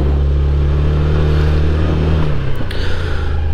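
A Honda Activa 125 scooter being ridden gives a close, steady engine drone with a low hum, which dips and shifts briefly near the end, with no talking.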